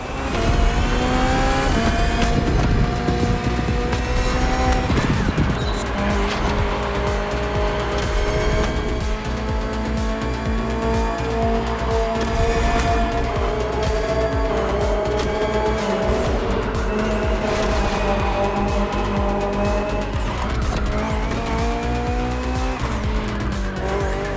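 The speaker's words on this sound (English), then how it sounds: "Finally, the BMW M Hybrid V8." A 2023 BMW M Hybrid V8 endurance race car in The Crew Motorfest holds a loud, continuous engine note that rises and falls through gear changes, with tire squeal layered over it, unbroken for the full length.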